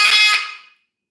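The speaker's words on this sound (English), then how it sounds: "That is a wild call. That's what you hear in the wild." One loud, shrill wild call from a pet bird, a piercing high-pitched burst lasting under a second before cutting off, close and alone.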